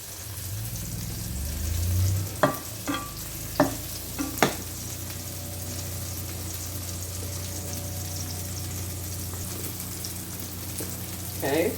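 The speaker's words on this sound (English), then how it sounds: "I'm going to put about 2 tablespoons of sweet cream butter." Sweet cream butter melting in a pot for a dorm-apartment meal, a steady low sizzle with a few sharp clanks of a utensil against the pot early on.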